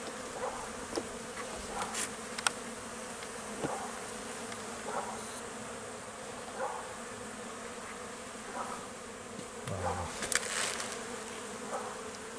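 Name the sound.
calm honeybees buzzing during a hive inspection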